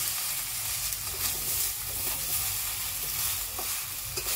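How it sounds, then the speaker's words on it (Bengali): Chopped vegetables stir-fried in a full pan, a steady sizzle broken by repeated scraping and clattering of a spatula against the metal, close and clear with no talking. "ভালো করে কষে নিয়ে কেটে রাখা সবজিগুলো তুলে দেবো, দিয়ে একটু ভালো করে আবার একটু কষে নেব"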